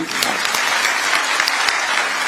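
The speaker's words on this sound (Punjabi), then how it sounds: "ਇੱਕ ਵਾਰੀ ਜ਼ੋਰਦਾਰ ਤਾੜੀਆਂ" A crowd at a government job-appointment event in Punjab breaks into loud, dense applause, a continuous even roar of many hands clapping close by.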